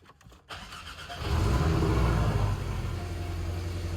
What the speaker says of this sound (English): I'm going to go ahead and start the car